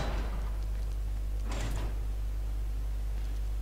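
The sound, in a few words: door opening in video game Resident Evil: Revelations 2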